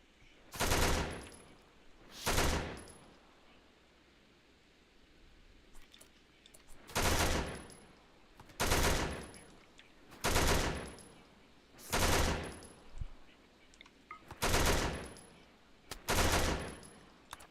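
Video game gunfire in a factory-building game: repeated bursts of rapid shooting, about nine separate volleys spaced a second or two apart, fairly loud against a quiet background.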